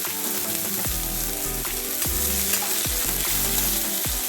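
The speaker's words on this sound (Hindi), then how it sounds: "ऑनियन को एकदम ब्राउन करके भूनना है" Onions brown in masala in a pan for an omelette curry, sizzling loudly and steadily while a spoon scrapes and stirs in a repeating rhythm, close up with no talk.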